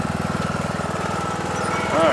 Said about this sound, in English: They got the lawn tractor going.